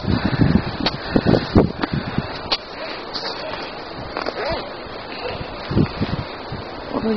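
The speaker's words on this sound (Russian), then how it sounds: "Вот ветер." Gusts of wind rustle through forest leaves in uneven bursts, with breezy buffeting on the microphone and quieter lulls between.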